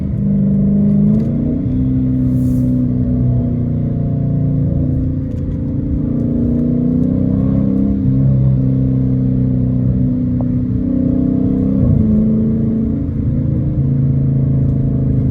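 Catless Dodge Challenger RT engine revving loud and close during a downshift, deep rumbling exhaust with pitch rising and falling in swells, no talk.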